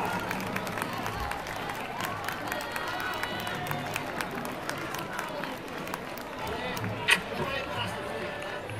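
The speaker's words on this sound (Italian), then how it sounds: "Grande applauso a questa ragazza che l'ha ideata" Audience applause at an official presentation of historical characters, honoring the young woman who created the event: steady crowd clapping and cheering with chatter, a sharp burst near the end, under a presenter's voice.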